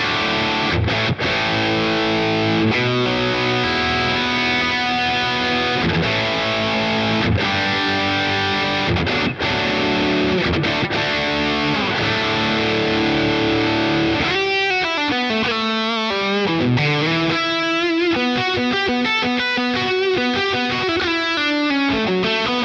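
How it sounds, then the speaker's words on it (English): Distorted high-gain electric guitar through a Boss Katana Gen 3 head plays chords and a melodic line, with ping-pong delay echoes bouncing side to side, high cut near 4 kHz, dense and loud throughout. "you'll hear the delays bouncing from side to side"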